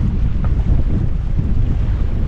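Steady wind buffeting the microphone with a low rumble beside Wangermeer lake in Wangerland on the North Sea coast, and faint lapping water beneath it, continuous and fairly loud.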